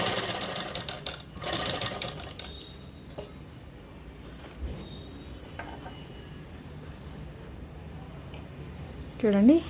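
A sewing machine stitches a blouse for a seven-year-old child, with quick mechanical rattling bursts at the start, then quieter ticking and handling of fabric near the end.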